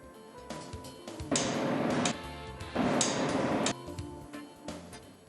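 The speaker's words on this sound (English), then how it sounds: "Tighten the coupling pieces using the torque spanner." Metallic clanking and ratcheting from a torque spanner tightening coupling pieces on a MAN B&W marine engine, with two longer, louder bursts of mechanical noise separated by quieter clicks, heard close up.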